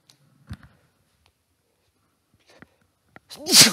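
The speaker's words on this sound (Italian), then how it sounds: "Scusate, starnuto." A single sharp sneeze bursts out near the end after a quiet stretch broken only by a few faint clicks and ticks.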